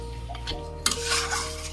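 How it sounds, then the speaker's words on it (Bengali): Beef being stirred with spices in a cooking pot: a low hum at first, then a sharp metallic scrape and continuing clatter of the spoon against the pot, mixed with faint sizzling. "ভালো করে এখন এটাকে নাড়ে দেই"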